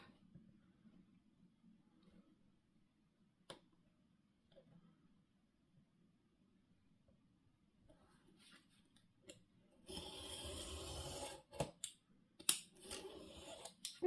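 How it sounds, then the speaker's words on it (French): Scissors snipping paper for a scrapbook album page, mostly quiet at first with faint handling, then a dense burst of close cutting followed by several sharp separate snips. "Après, on prend le coin là et on coupe."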